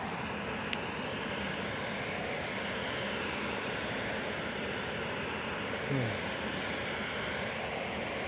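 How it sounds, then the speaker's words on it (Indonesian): Strong wind roars steadily through a jungle forest, a loud, unbroken broadband rush with no gaps across the whole stretch, under an overcast sky before rain. "Itu suara angin kenceng banget."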